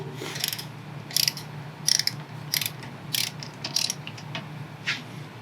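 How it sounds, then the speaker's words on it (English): A torque wrench ratchets while tightening rear brake parts on a third-generation Toyota Prius, with regular bursts of sharp clicking strokes evenly spaced, close and fairly loud over a low background hum. "I'm going to reset my torque wrench to 25 foot-pounds."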